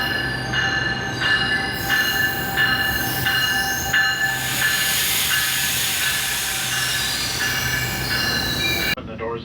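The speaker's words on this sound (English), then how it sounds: "Here comes the train." A passenger train rolls into a Toronto-area station platform with a steady rumble, squealing wheels and hissing brakes, a rhythmic clatter of wheels over rail joints, then it cuts off abruptly.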